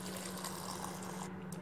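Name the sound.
water poured into rice and masala in a biryani pot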